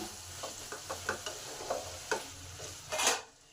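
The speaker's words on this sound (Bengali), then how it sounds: "নুন আর হলুদটাকে ভালোভাবে আলুর সাথে মিশিয়ে দিলাম।" Diced potatoes with salt and turmeric are stirred in a pan with a spoon in repeated scraping strokes over a soft sizzle, ending with one longer, louder scrape.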